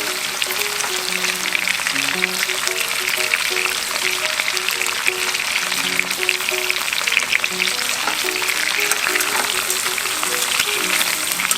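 Whole garlic cloves and pork belly fry in a pan with a loud, dense, crackling sizzle that holds steady, and faint background music plays underneath.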